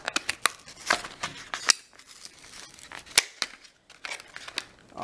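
A Kershaw Freefall folding knife with a stonewash finish is handled and opened at close range, producing a run of sharp metallic clicks and snaps with small scraping sounds between them.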